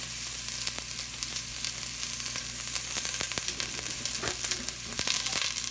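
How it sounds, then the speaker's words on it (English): Onions frying in a Dutch pot as a base for venison osso bucco, a steady close sizzle with crackling pops throughout, loud and continuous with no voices. "first I'm going to throw in my onions, get those cooking because they do take a little longer"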